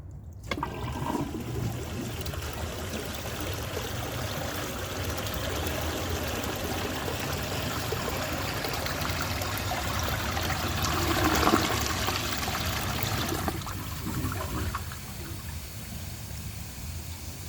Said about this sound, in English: So let's see how it flushes and how it does on tests.